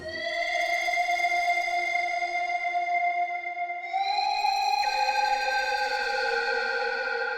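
A sustained, heavily distorted synth tone with gliding, bent pitch, shifting upward partway through and holding steady as a dense, buzzy background layer.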